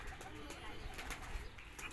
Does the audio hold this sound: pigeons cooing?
yes